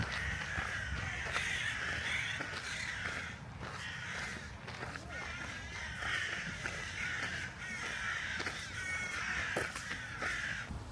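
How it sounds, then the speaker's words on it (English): Crows caw repeatedly and loudly outdoors in Copenhagen, harsh calls overlapping in an ongoing chorus over steady ambient noise with faint footsteps. "Very vocal birds."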